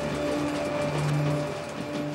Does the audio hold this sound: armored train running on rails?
yes